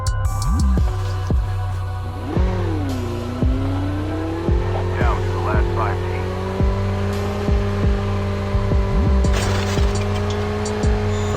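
Vehicle engine in a shooter video game droning steadily while driving along slopes and cliffs, pitch rising and settling as it accelerates, with scattered sharp gunshot-like cracks over the continuous motor hum.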